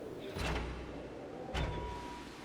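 A door opens in the video game Ico, with two short grinding bursts a second apart over a constant low rumble.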